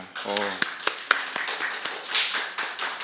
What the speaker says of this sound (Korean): 박수 한번 주겠습니다